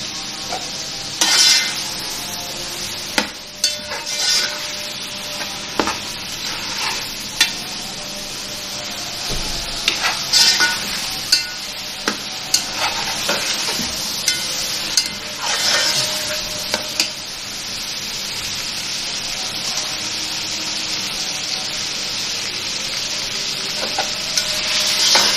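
Green chillies frying in a pan for chicken pulao, a continuous close sizzle broken by frequent scraping and clinking as a spoon stirs them against the metal.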